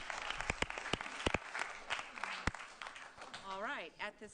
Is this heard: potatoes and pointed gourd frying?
no